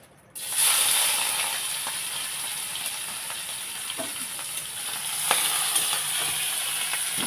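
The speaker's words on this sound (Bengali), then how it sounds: "চিংড়ি মাছটা আগে ভেজে নেব" Prawns dropped into hot oil in a kadai burst into a steady, bright sizzle that continues evenly, with a few soft clinks and stirring taps from the pan.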